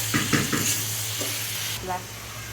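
Curry sizzles in a hot pan while a spoon scrapes and stirs in a few quick strokes, with a steady hiss underneath.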